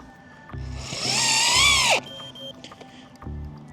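Power drill driving timber screws through a metal bracket into garden sleepers, a single rising whine lasting about a second and a half, close and loud, with short motor blips before and after.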